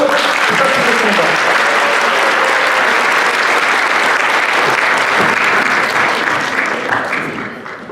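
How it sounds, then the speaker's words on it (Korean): A banquet hall audience at a Korean community evening in Slovakia applauds to welcome the association chairman to the microphone, loud sustained clapping from many hands that fades out over the final second. "회장님 앞으로 모시겠습니다. 박수!"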